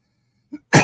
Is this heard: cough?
yes